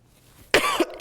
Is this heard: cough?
yes